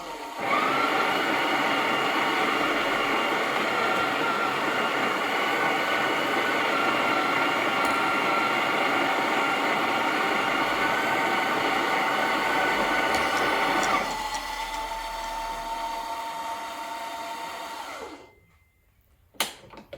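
A Breville Oracle Touch espresso machine's built-in grinder grinds coffee beans at setting 30, a loud steady whirring drone that drops in pitch and level partway through before cutting off abruptly near the end.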